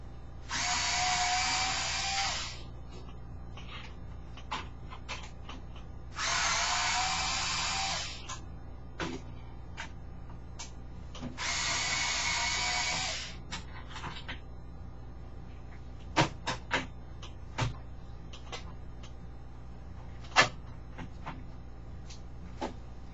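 A power screwdriver whirs in three bursts of about two seconds each, pulling screws out of an Apple iMac G3 case, followed by scattered small clicks and taps of handling up close.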